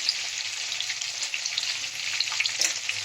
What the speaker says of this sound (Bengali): এবার আমি ওই তেলে আলু ফুলকপি গুলো ভেজে নেব।